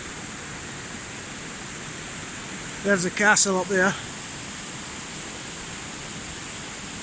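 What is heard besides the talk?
waterfall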